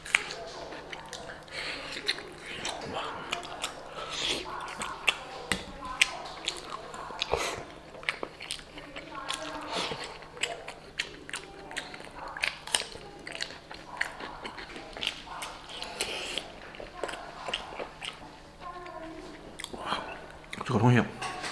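Close, wet chewing and biting of hot-pot-cooked yuanxiao with a cured pork and garlic filling, soft squishy mouth sounds in an uneven rhythm lasting around twenty seconds, with faint vocal murmurs in places.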